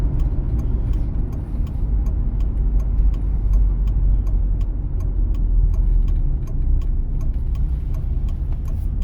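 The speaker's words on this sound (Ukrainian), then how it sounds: "ми вмикаємо лівий покажчик повороту" A car's left turn indicator ticks in a steady, regular rhythm inside the cabin during a driving-test route in Lviv, with crisp clicks over a constant low engine and road rumble.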